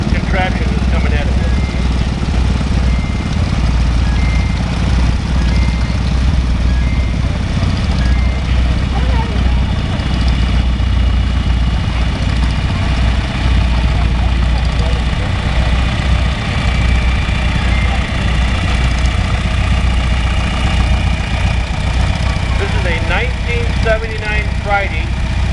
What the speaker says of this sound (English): Here we have a 37 R42 Silver King, and it's owned by Tim Metzger.